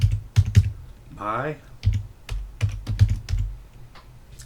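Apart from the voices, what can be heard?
typing commands on a computer keyboard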